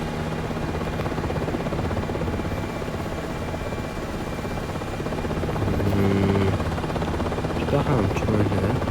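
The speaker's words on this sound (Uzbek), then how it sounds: "Menga shaxsan vertolyotda parvoz qilish yoqadi." Marine One presidential helicopter in the Aerofly FS Global flight game flying near the White House, a steady buzzing rotor and engine drone that grows louder and busier toward the end, with a voice talking over it.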